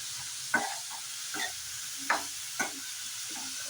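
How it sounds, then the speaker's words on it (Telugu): Sliced onions cooking in a pan with salt and turmeric are stirred, a spatula scraping in four or five distinct strokes over a low, continuous sizzle, close by and with no talking. "పసుపు సాల్ట్ మొత్తం ఇలా కలుపుకోవాలి"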